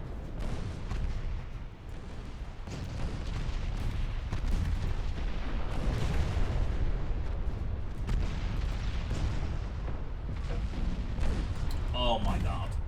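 Naval battle sounds in the Ultimate Admiral: Dreadnoughts video game, with torpedo hits and gunfire as a dense, rumbling stretch of booms and blasts under layered noise, with a brief voice near the end.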